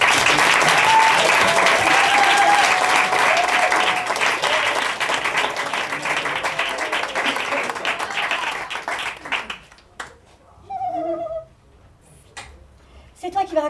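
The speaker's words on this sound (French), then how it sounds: "je vais vous demander un tonnerre d'applaudissements pour lui donner du courage" Sustained audience applause at an improv festival in Paris, loud and dense for about nine seconds, then fading out as a voice begins speaking in the quieter remainder.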